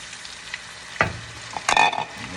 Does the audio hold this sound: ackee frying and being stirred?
yes